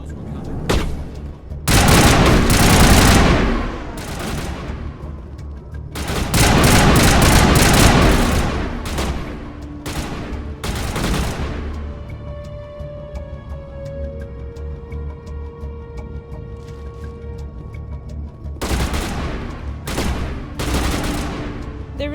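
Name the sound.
gunfire at a pipe in the video game Mass Effect 1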